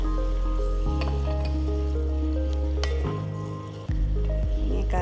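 Avial vegetables, including snake gourd, drumstick and yam, sizzle loudly in hot oil while being stirred, with scraping and squishing strokes and a brief dip near the end before the frying resumes.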